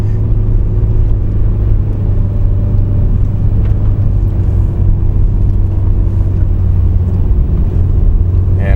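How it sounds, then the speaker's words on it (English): A truck engine labours up a snowy, sanded hill in near-freezing cold, a steady low rumble and drone that holds loud and unbroken throughout with no talk over it. "you can see that the truck is working pretty hard here."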